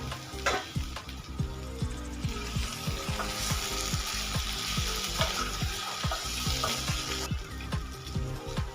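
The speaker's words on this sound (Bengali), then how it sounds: "দেখতে পাচ্ছেন সজনে ডাঁটা আলু মশলার সাথে খুব সুন্দর ভাজা ভাজা হয়ে গেছে।" Moringa drumsticks and potatoes frying with spices in a pan on a gas stove give a steady close sizzle, broken by repeated clicking scrapes as the mix is stirred.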